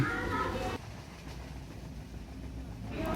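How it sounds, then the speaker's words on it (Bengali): A train rumbles along its rails with a low, continuous droning roll. A voice speaks briefly at the start and again near the end. "আমরা যাতাযাতি করে ট্রেনের সিটে বসে পড়লাম"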